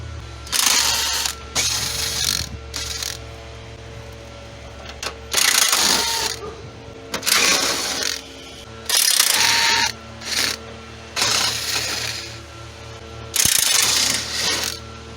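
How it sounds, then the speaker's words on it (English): Hand ratchet clicking in repeated bursts while backing out 10mm bolts from the front of a Toyota Sienna during engine removal, close and fairly loud, with short pauses between runs and a steady low hum underneath. "I'm gonna be pulling out all this front here. These ones are 10mm bolt."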